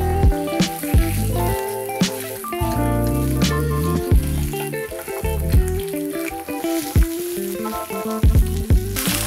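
Chicken karaage pieces frying in a little oil in a pan, a loud continuous sizzle broken by sharp crackles and pops, close up with no one talking.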